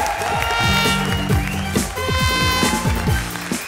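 A comedy show audience on Comedy Circus applauding steadily, with rhythmic clapping, band music and crowd noise blending in a sustained, lively wash.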